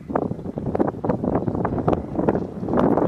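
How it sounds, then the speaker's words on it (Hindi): A cool breeze blows across the open mountain meadows of Bangus Valley, Kashmir, buffeting the microphone in loud, gusty rushes that rise and fall continuously, with no talk. "बहुत प्यारी प्यारी ठंडी ठंडी हवा चल रही है"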